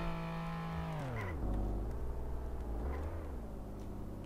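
A car engine in the video game Real Car Parking revs and accelerates up close, its pitch sliding down, settling low, then climbing again in a smooth synthetic drone with no talk over it.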